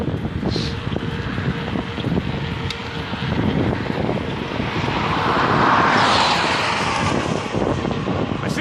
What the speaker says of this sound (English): Car coming, hang on.